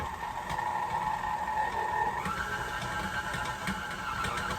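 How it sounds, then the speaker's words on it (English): An electric mixer whirs as it beats a stiff gingerbread cookie dough, a close, steady motor hum that shifts pitch partway through as the load changes, with faint clicks and rattles from the machine shaking. "It gives your mixer a good workout, so you may have to hold it down or put the lock button on and it'll shake around a little bit"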